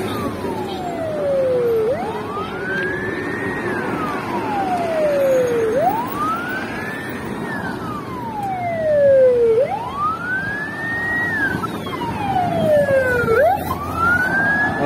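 Emergency vehicle sirens wail through a traffic jam in Osh, rising and falling in long, repeated sweeps, loud and fairly close, over a rumble of idling cars and trucks.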